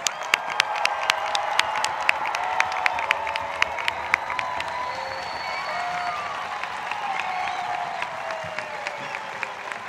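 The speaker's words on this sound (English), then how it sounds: "Let's give these young adults a round of applause." A high school graduation crowd applauds for the class of 2021, broad sustained clapping with some cheering and sharp individual claps standing out near the front.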